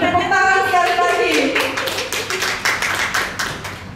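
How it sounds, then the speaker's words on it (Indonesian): Audience clapping at a school classroom presentation, rising after a brief lull into a steady patter of hands that continues to the end, with a voice speaking over the start. "Tepuk tangan sekali lagi."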